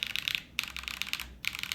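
Quick bursts of keystrokes on the F keys of a Matrix mechanical keyboard, sharp clicky taps close by in two or three clusters.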